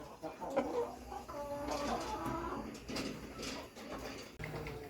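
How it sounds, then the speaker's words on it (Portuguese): Sussex rooster clucking and calling close by, a busy run of short throaty bursts and clucks layered over ambient farmyard noise with other fowl sounds mixed in. "enorme, um galo lindíssimo."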